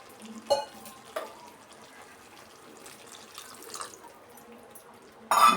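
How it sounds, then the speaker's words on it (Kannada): Water poured into a pan of garlic gojju cooking with jaggery and tamarind: a few soft splashes and drips spaced out, then a brief louder gush right at the end, with no talking. "ನೋಡಿ, ಒಂದು ಸ್ವಲ್ಪ ನೀರು ಸೇರಿಸ್ಕೊಳ್ಳೋಣ"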